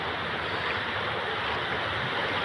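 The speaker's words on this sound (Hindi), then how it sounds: "यहाँ पानी बहुत तेज बह रहा है।" Fast-flowing water rushes through a forest stream in Dindori district along the Narmada parikrama route: a steady, loud, unbroken broadband roar that fills the whole clip with no talking.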